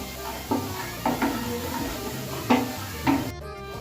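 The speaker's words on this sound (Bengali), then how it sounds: "এবার দিয়ে দেবো হচ্ছে হলুদ আর লঙ্কার গুঁড়ো। ভালো করে কষিয়ে নেব।" Turmeric and chili powder fry in a pan, a moderate sizzle with four or five distinct stirring scrapes spaced irregularly, ending abruptly.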